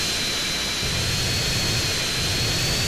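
Roaring jet engine of an aircraft in Grand Theft Auto San Andreas during a flying race, a loud, steady broadband rush that holds without a break, with no talking.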